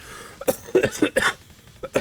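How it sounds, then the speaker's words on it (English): A person coughs in a quick series of short, harsh bursts, fairly close and loud, with brief pauses between the hacks. "God, I wish this cough would go away."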